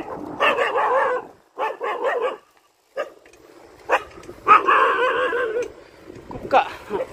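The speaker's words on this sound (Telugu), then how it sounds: "కుక్క" Dogs bark in a village near Hindupur: several loud, close bursts of barking come in clusters with short pauses, and a voice talks nearby.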